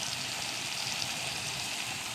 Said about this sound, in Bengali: এবার দিয়ে দিচ্ছি পানি।